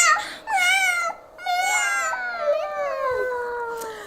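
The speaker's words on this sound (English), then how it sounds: "She meowed and meowed." A cat meows several times in drawn-out, plaintive cries, close and clear, each call rising and falling with a whining tone.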